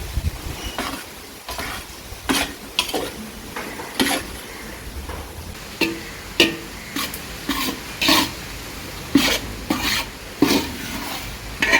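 Flour being stirred and roasted in an aluminium pan over a village fire, with repeated scraping strokes and a soft sizzle in an uneven rhythm, no talk.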